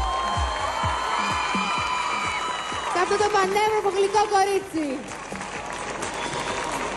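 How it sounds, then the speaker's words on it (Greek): A studio audience at a televised dance competition bursts into loud, sustained applause with cheering and whoops, while a presenter speaks over it throughout. "Ένα ζεστό χειροκρότημα."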